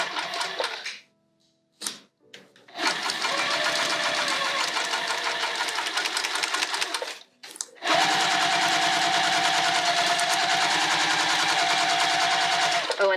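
A sewing machine stitches a bag at a 4mm stitch length, running in steady rapid bursts broken by short pauses, loud and close with no talk.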